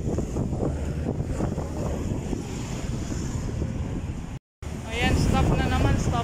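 Strong wind buffets the microphone with a constant roaring rumble, a brief dropout, then gusting louder again.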